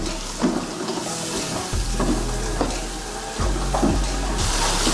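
Water poured into frying spice masala for an aloo pyaaz dish sets off a steady hiss and sizzle, with occasional stirring scrapes in the pan and a low background hum.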